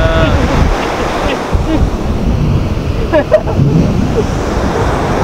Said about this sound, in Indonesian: Kita diserang ombak.